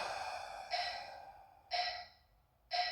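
Breathy exhales during a men's stretching workout, three close, airy bursts of breath spaced about a second apart, each starting abruptly and then trailing off, with quiet between them.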